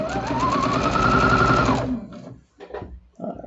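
A sewing machine stitches quilt charm squares with a loud, close, continuous whirring hum that climbs slightly in pitch and runs for about two seconds before stopping. Soft fabric handling noises follow.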